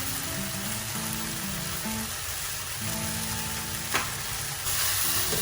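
Vegetables sizzle and crackle in a hot pan with salt added, a steady loud frying hiss broken by scraping stir strokes and a sharp clatter near the end.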